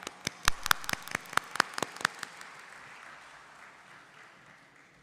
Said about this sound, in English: with a big round of applause, please join me in welcoming CA Amit Mehta